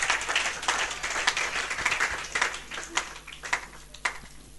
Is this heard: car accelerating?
no